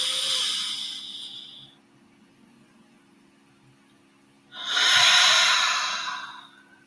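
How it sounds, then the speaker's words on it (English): A single deep breath: a long, airy inhale through the nose, a pause, then a strong, loud exhale through the mouth, close and alone against faint background hum. "Taking a deep breath in through the nose and out through the mouth."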